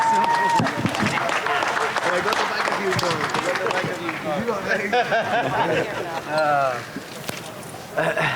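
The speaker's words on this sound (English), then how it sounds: "Big round of applause for two classy gentlemen." Audience applause at a post-fight press conference, a steady wash of clapping that runs throughout, mixed with crowd chatter and people talking over it.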